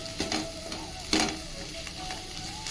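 Eggplant pieces fry in oil in a pan for a spiced brinjal podi fry, giving a steady close sizzle with a few louder stirring scrapes and clatters.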